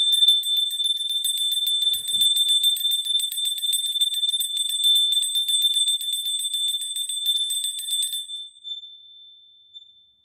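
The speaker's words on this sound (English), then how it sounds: "I've got this beautiful bell, which I bought in India, which I'll ring for you so you can hear it" A bell bought in India is struck and rings with a bright, high, shimmering tone that pulses steadily for about eight seconds, then fades away into silence.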